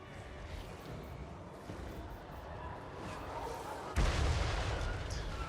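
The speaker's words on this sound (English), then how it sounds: "Aren't hell cannon shots supposed to be homing?" Hell cannon shots firing in the Total War: Warhammer 3 strategy game, a loud booming blast at about four seconds over a dense, steady battlefield rumble, with a voice talking briefly.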